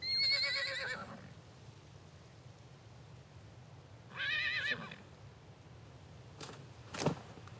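A horse in Mongolia whinnies as a handful of its tail hair is yanked out, two loud neighs about three seconds apart over quiet outdoor air, followed by a couple of brief sharp knocks.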